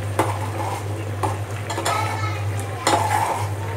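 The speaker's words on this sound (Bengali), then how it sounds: "তা আমি একটু হচ্ছে নাড়া দিয়ে দিব।" A spoon stirs a bubbling small-fish curry in a pot, with several distinct scraping clinks against the metal over a low steady hum and faint simmering.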